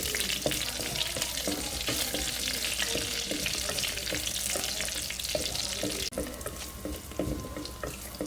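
Garlic frying in a pan until brown, a dense steady sizzle with repeated scraping stirs, close up and continuous with no talk.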